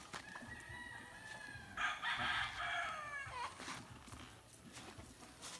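A rooster crows nearby, a drawn-out call rising and falling over faint background noise.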